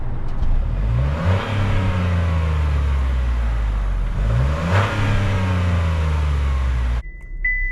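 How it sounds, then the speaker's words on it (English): A 2024 Chevy Trailblazer's engine starts by push button with a loud crank, then revs up twice in rising surges before cutting off abruptly. "I'm gonna fire it right up with the push button start. The screen comes on, the engine roars to life."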